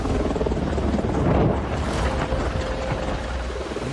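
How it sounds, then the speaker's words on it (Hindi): An Indian Air Force Apache attack helicopter flies past with a steady, throbbing rotor and engine drone at moderate loudness, swelling briefly before settling. "Apache attack helicopter multi targeting क्षमता से लैस है"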